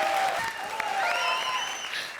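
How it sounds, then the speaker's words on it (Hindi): Studio audience clapping on a comedy show set, a brief burst of applause mixed with tonal music and a faint voice in the background. "थैंक यू अरबाज के लिए ताली बजाई"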